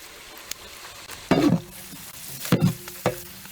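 Chopped onions fry in wood-pressed coconut oil and cow ghee for a village chicken biryani, a soft sizzle broken by three sharp bursts of stirring and scraping in the pot.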